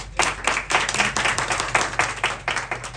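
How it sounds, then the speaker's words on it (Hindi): Hall audience breaking into loud, dense clapping for a madam, a steady close-up roar of many hands with slight surges, no voices over it. "मैडम जी के लिए जोरदार तालियां"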